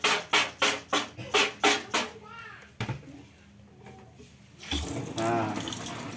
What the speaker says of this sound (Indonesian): kita bilas dengan air